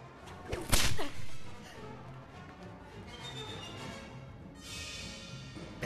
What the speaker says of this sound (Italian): Pensi che mi limiterò a usare la frusta?